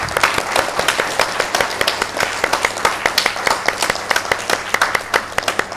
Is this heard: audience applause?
yes